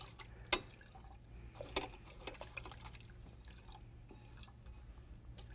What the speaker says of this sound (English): now we use a big brush, clean, wash the big brush